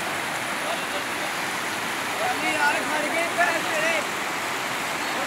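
Cold river water flows steadily through a stream crossing, a continuous broadband rush with slight swells, steady and fairly close throughout.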